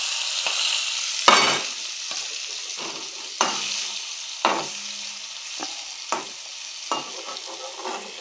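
Whole tomatoes and green chillies fry in oil tempered with cumin, black pepper and cinnamon. A steady close sizzle runs throughout, broken by several sharp spoon clatters and scrapes against the pan.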